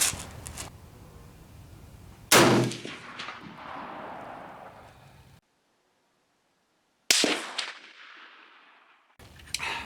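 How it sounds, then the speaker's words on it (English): Two loud, sharp rifle shots firing handloaded ammunition at an outdoor shooting range, each followed by a long echoing decay, with a third report starting at the very end. "I'm going to be shooting at the center of the black shooting seat."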